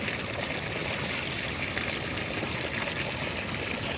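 Cold water streams and splashes in Azad Kashmir, a soft continuous burbling rush heard at moderate distance with no pauses or voices.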